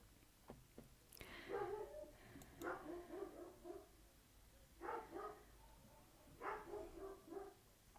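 Dogs in a neighborhood barking in the distance, faint repeated bursts of several barks each at a low level.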